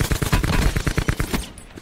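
Rapid gunfire from the Black Ops 4 Blackout video game: a fast, steady string of close, loud shots for about a second and a half, then a sudden stop.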